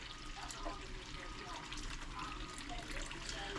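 Water poured into a cooking pot for curry with tough meat, a continuous splashing, trickling stream heard close and fairly loud with no gaps.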